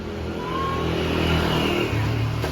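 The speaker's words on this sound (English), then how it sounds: "Here comes a motorbike." A motorbike engine revs and rises as it passes close by on a street during the Songkran water festival, a continuous mid-pitched drone that swells in the middle and stays loud.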